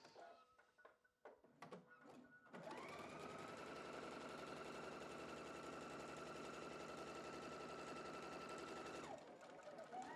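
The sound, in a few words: sewing machine stitching quilt section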